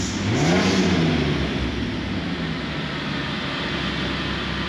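A Jeep TJ engine runs close by, revving up with a rising and falling pitch at first, then settling into a steady idle hum.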